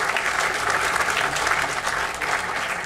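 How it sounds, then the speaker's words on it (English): An audience at a Charter Day student awards ceremony applauds steadily for a few seconds. The dense clapping fills the room at an even level from start to finish. "we'll give him a round of applause anyway"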